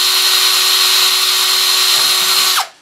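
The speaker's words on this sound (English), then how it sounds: "I do have it on a slow speed of this drill, probably 400 RPM or so." A power drill turning slowly, around 400 RPM, bores through a 3/8-inch stainless steel tube in a loud, steady whine with a faint rising squeal just before it stops abruptly near the end.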